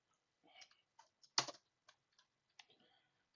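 Keystrokes on a computer keyboard as a networking router command is entered, a quiet run of separate clicks with one louder tap near the middle and scattered lighter taps after, no talking.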